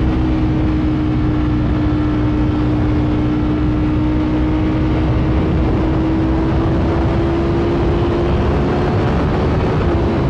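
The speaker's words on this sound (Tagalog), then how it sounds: "Masyado matindi hatak ng bike na to." Ducati Streetfighter V4S 2022 motorcycle engine pulling hard at high revs, a loud, close, continuous drone that holds and slowly rises in pitch, with heavy wind noise throughout.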